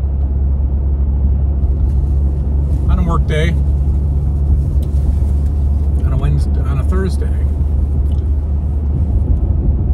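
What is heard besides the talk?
car interior rumble while driving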